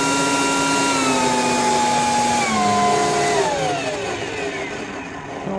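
A Ryobi 40V HP brushless 600 CFM blower vacuum in blower mode whines loudly up close, its pitch stepping down through speed settings, ending as a steady, lower drone.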